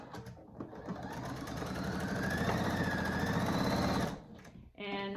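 A home sewing machine runs a quarter-inch seam across folded fabric for a wallet, whirring steadily and close for about three seconds before stopping, and a voice speaks briefly at the end.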